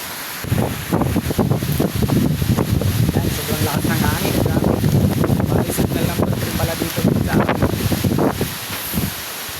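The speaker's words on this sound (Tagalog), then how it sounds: "sobrang lakas talaga ng hangin ngayon dito" Strong wind from Typhoon Uwan in the Bicol region roars and buffets the microphone continuously, with gusts rising and falling over rushing, rustling background noise.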